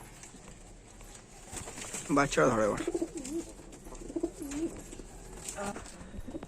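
Golden pigeons coo in a loft, soft rolling calls repeating near the birds while a voice talks over them.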